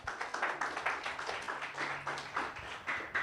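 A church congregation claps together in a steady rhythm, producing repeated applause that is moderately loud and has a faint low hum beneath it.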